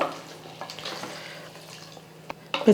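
Chicken coated with ground masala fries in a pan for biryani, giving a faint, soft sizzle with light stirring scrapes and a few sharper clinks near the end, no voices.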